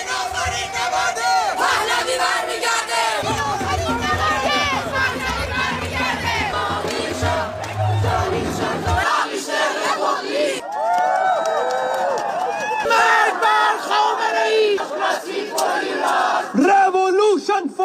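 A crowd of Iranian dissidents and refugees cheering and chanting at a rally about regime change, loud massed voices shouting and yelling in bursts, close and continuous, with rhythmic chants rising over the noise.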